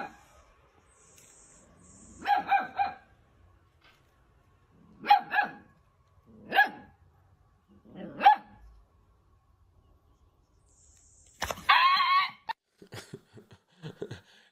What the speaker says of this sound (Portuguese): Meu cachorro não parava de latir pra ver o que era.